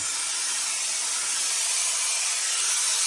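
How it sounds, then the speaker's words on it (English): Steam hisses continuously onto a fur felt Homburg hat during restoration, a loud, steady, broadband spray close by with no pauses and no talking. "just to sort of get the fur felt moisturised, I suppose, really, with all the moisture from the steam"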